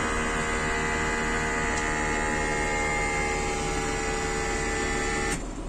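A tractor cab during sunflower sowing, with the air compressor and air conditioner running as a steady electric hum and whine that drones on evenly before easing off at the end.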